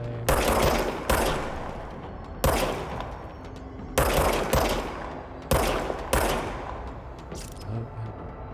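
Player's gun firing in the video game Control: several loud bursts of rapid shots, each with a sharp attack and a decaying tail, coming in groups roughly every one and a half seconds with no talking.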